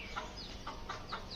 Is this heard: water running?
no